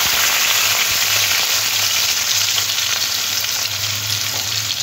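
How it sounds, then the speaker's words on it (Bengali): Potatoes sizzling loudly in hot oil left over from frying tangra fish, a steady dense crackle holding through the whole stretch with no voices. "মাছ ভাজা তেলের মধ্যে আলুগুলো দিয়ে একটু ভেজে নেব।"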